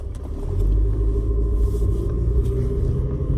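Steady low rumble inside a moving car, a continuous road and engine drone at close range with no talking.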